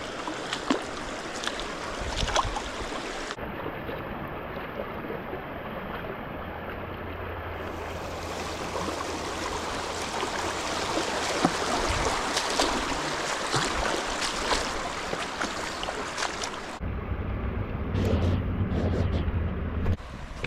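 Flowing creek water rushes steadily along a rail trail in the woods, a continuous broadband wash with occasional splashes and sloshing as someone wades through it, fairly close, with no speech.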